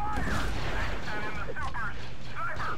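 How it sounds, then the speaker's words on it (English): Grenades exploding in the Star Wars Battlefront 2 video game, a steady roar of blasts and battle noise running through the whole stretch, with a voice talking over it. "Let's just toss all of our grenades,"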